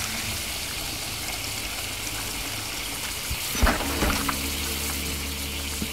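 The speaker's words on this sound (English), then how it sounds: "I'm pouring." Acid pouring from a bucket in The Outlast Trials, a continuous trickling, splashing liquid stream with a couple of brief knocks partway through, heard alone without talk.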